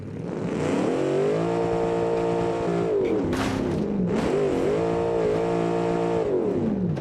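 V8 car with 450 horsepower, locked rear differential and drag tires accelerating hard in BeamNG, a loud, sustained engine roar climbing through revs, dipping briefly at gear shifts, then rising again.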